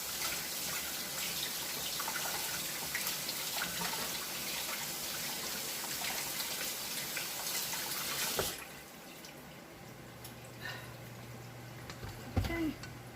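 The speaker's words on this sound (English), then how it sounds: "Let's rinse this out." Tap water runs steadily into a bowl being rinsed out, a dense, even rush for most of the span that cuts off abruptly, leaving quiet handling and a few small clinks and drips afterward.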